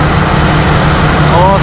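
A car engine idles with its A/C clutch engaged, giving a steady, loud low hum with no change over a brief moment.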